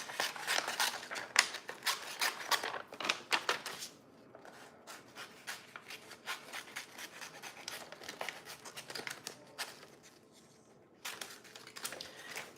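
Scissors cut through paper in fast, crisp snips, trimming a page for a Traveler's Notebook-style list. The cuts run close up in dense bursts, ease into softer, sparser cutting, then pick up again near the end.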